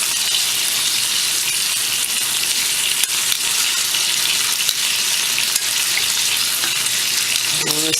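Strips of bacon sizzle in a frying pan with a constant loud hiss and scattered crackling pops, close up, with a faint clink near the end and no one speaking.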